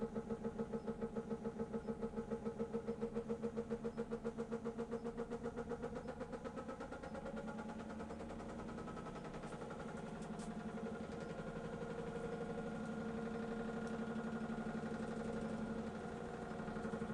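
A motor spinning a threaded rod fitted with nuts, humming with a fast pulsing buzz that shifts as speed climbs toward about 1000 rpm, steady and continuous with no voices.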